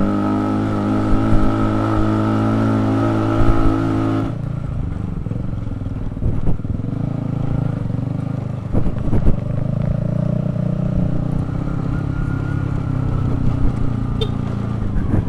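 A Honda CBR150R K45A motorcycle climbs uphill in first gear, its engine droning steadily and close throughout, with a change in tone partway and some clatter over the road.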